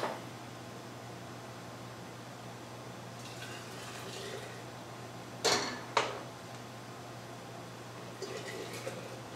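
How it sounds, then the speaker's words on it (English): Quiet room tone, then a couple of short liquid splashes and pours with faint clinks as hot tomato juice is ladled into jars. "Just dip it out and pour it right into your jars."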